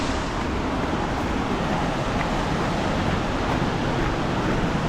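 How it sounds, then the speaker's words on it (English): A raging river in Tasmania roars steadily near a waterfall drop, producing a loud, unbroken rushing wash of water close by with no voices. "It's on this river here. It's raging, and you can see there, it drops straight off."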